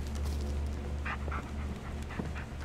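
A dog in the Blair Witch video game gives soft, brief whimpers and yips, faint over a constant low ambient drone, with no talk.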